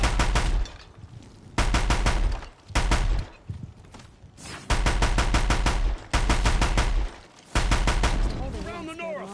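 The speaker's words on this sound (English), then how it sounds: "Shoot him with bullets!" Heavy bursts of automatic gunfire in the Horizon Zero Dawn video game, loud and sustained with short gaps between volleys and some fainter game sounds near the end.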